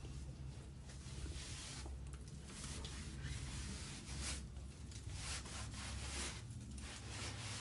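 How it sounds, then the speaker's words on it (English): A board used for salting hides being wiped down, a steady dense rubbing and scraping texture in repeated strokes, close and moderately loud, with no speech. "Start by wiping down your board."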